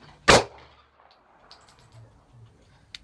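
A single sharp gunshot from a Taurus PT111 Millennium G2 9mm pistol at a shooting range, loud and close near the start, followed by faint background clinks and quiet shuffling.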